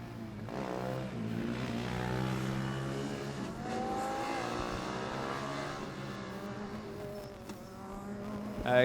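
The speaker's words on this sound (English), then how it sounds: "TU Berlin here, car 55 with their squeaky brakes is just coming over" Formula Student race car from TU Berlin approaching along the endurance track, its engine rising and falling in pitch as it nears, heard at moderate distance and growing louder at the very end.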